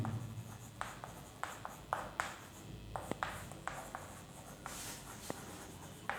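Chalk or marker writes a point on a classroom board, producing steady scratchy strokes with regular taps over about six seconds, close and distinct against faint background noise.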